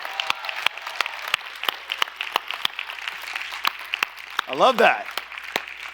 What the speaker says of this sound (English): I want you to give a big round of applause to your teachers, administrators, and the parents